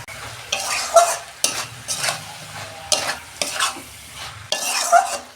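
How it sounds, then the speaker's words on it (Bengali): Cabbage with spices is stirred in a pan in repeated rhythmic scraping strokes, each burst of spatula noise rising over a steady frying sizzle, close and clear. "আর 2 মিনিট আমি ভালো করে মশলাটার সঙ্গে মিশিয়ে নেব।"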